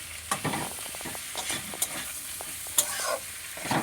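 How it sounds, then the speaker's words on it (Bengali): Malabar spinach greens frying in bhetki fish oil for a chachchari, a steady close sizzle broken by several sharp scraping stirs of a spatula against the pan. "পুঁই মেথিটা পুরো ভাজা ভাজা হয়ে গেছে মাছের তেলে"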